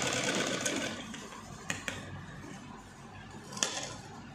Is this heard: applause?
no